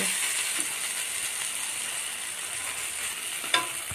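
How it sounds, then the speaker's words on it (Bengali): Banana flower frying in a pan, a steady sizzle with occasional scraping stirs and a sharp clink near the end, close and alone without voices. "এবার ঢেলে দিব মোচা। ভালো করে ভেজে নিতে হবে যাতে জল না থাকে।"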